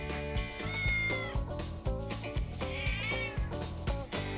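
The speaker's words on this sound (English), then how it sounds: "Hear my cat yelling outside?" A cat yowls repeatedly in drawn-out wails over rhythmic music with a steady beat.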